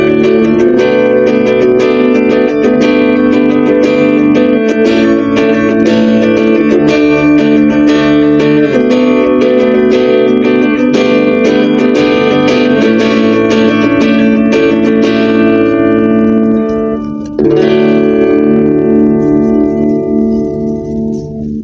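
Electric guitar through a Boss Blues Driver BD-2 pedal, mildly overdriven with a slightly gritty tone, plays sustained chords and notes alone, ringing out near the end.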